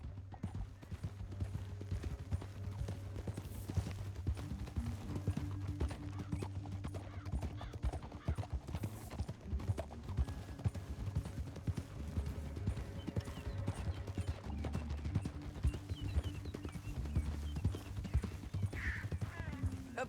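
Horse hooves galloping steadily in Red Dead Redemption 2, a dense continuous clatter of clip-clop rhythm that runs loud and close for the whole stretch, with occasional snorts and ambient rumble.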